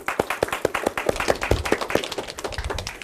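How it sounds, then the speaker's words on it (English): Small audience of elementary school quiz team members and supporters clapping, a loose scattering of individual hand claps in an uneven rhythm, fairly close and moderately loud, with no talking. "Big round of applause for yourself for a job well done."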